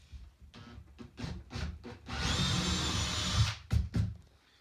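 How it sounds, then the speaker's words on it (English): A drill whirs for about a second and a half in a steady, close burst, drilling out a screw hole on a Druine D31 Turbulent aircraft build, with scraping and tapping sounds just before and after. "Just gonna drill out the top and then we'll countersink last."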